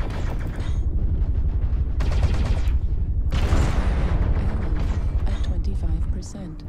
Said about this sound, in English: The rocket launcher. I kind of forgot I had that for a second. It's just a nice little punch if you actually hit your target.